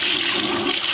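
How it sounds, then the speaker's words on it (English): Full-flush toilet unit in a washroom connected to a biodigester, flushing with a continuous rushing gush of water that stays loud and steady for the whole moment, with no voices. "you flush the unit, you cannot flush immediately again"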